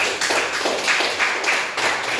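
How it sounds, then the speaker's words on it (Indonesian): A small classroom group claps for presenters, dense close hand claps that swell in rough pulses over about two seconds without talk. "Oke, tepuk tangan dulu untuk yang presentasi"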